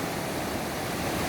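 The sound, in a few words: river cascading down from a mountain valley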